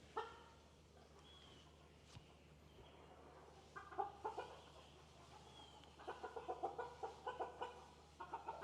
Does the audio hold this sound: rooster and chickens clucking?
yes